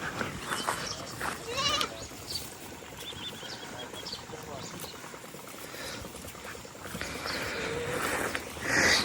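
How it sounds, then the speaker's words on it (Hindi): A herd of goats kept in a village pen bleats repeatedly, several overlapping calls near and far, while people talk in the background over a steady outdoor murmur. "बकरियों का भंडार।"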